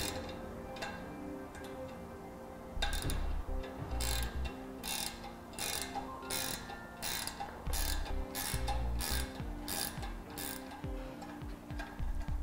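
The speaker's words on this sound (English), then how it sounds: "Now we can just tighten it down." A ratchet wrench tightens a bolt on a rear recovery bumper bracket of a 2012 Jeep Wrangler, its clicks coming in steady bursts alongside metallic knocks, close up, with no talking.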